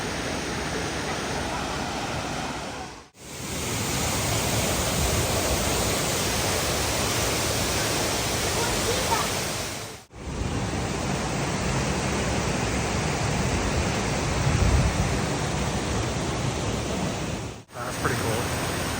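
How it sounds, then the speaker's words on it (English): A waterfall beneath a walkway in the Finger Lakes region of New York rushes in a steady, loud, broadband roar, with two brief dropouts splitting it into three long stretches and no talking. "cool little walkway over the top of that waterfall"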